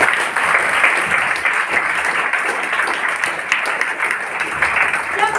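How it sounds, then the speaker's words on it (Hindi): A crowd at a gathering breaks into loud, sustained applause that carries on steadily throughout, dense clapping with no pause. "क्या बात है, जोरदार तालियां हो"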